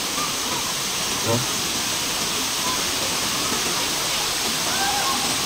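Tinago Falls waterfall pouring steadily, a loud continuous broadband rush of falling water filling the whole clip, with a brief faint voice or splash near the middle.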